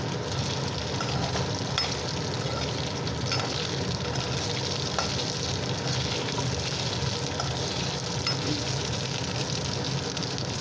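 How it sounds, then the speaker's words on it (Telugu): Pieces of idli fry in hot oil, making a steady, close sizzle with soft crackles and occasional stirring scrapes that continue evenly throughout without talk. "ఫ్రై చేసుకోవాలన్నమాట"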